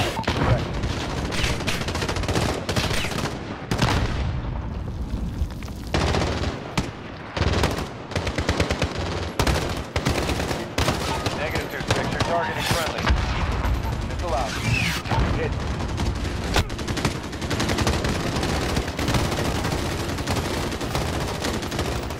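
Dense, loud automatic gunfire from Call of Duty: Modern Warfare, with near-continuous rattling bursts and heavy impacts that run throughout under a chaotic combat mix.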